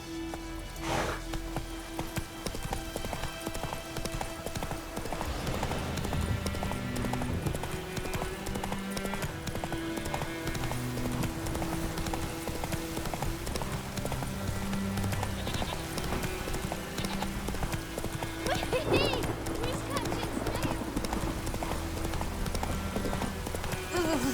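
Roach the horse gallops across open ground in The Witcher 3, a steady rhythmic clip-clop of hooves running close and continuous under a swelling music score, with a brief whinny partway through.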